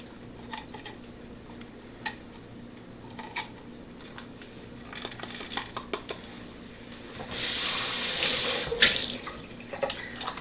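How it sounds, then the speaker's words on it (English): Tap water runs into a kitchen sink while pepper seeds are rinsed out, with faint handling clinks at first, then a louder, steady gush of water near the end. "Just gonna rinse the seeds out."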